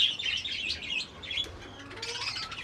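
Pigeons being released from their coop chirp and coo softly in a dense, continuous chatter of high calls, with a few brief flutters, fairly near and moderately loud.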